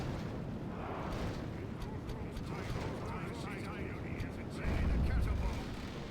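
Artillery fire in the strategy game Third Age: Total War during a siege bombardment, heard as a continuous low rumbling battle din with a heavier boom near the end, under faint speech.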